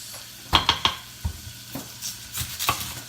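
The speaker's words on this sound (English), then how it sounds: "I'm about to start cutting up a green pepper and another onion, a white onion, for the baked beans." Knife chopping a green pepper and a white onion on a cutting board, a few quick sharp cuts close by followed by softer irregular knocks, with no talk.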